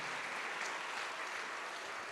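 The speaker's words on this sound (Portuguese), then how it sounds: "Vamos aplaudir mais, igreja." A church congregation applauds, a faint but continuous wash of many hands clapping together with no clear individual claps.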